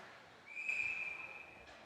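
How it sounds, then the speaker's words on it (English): During a women's ice hockey game, a referee's whistle sounds once as a single sustained, fairly faint tone of about a second over the low arena murmur. "we're going to have a whistle at 17:30 remaining here in the second period"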